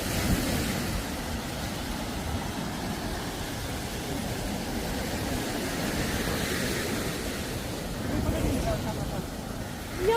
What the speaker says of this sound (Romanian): Mamă, ce valuri